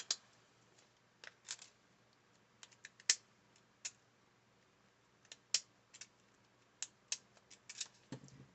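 Scissors snip across a crinkly chip bag during a Halloween craft, a string of sharp, quiet cutting clicks spaced irregularly with short pauses between, close and alone.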